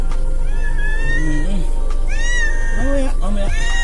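A pet cat meows several times close up, drawn-out rising and falling cries in quick succession, with a person talking nearby over a constant low mechanical hum.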